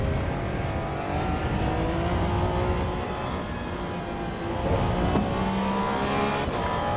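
A GT3 Cup race car in the Assetto Corsa Evo racing game drives a lap with a continuous loud engine drone that rises and falls through gear changes, steady and dense from start to finish.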